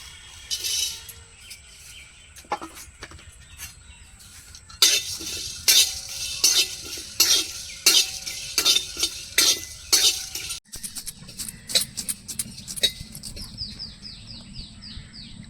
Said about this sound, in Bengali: এখানে আছে গোটা জিরে লবঙ্গ গোলমরিচ মৌরি এলাচ দারচিনি গোটা ধনে আর শুকনো লঙ্কা এটা শুকনো খোলায় ভেজে নেব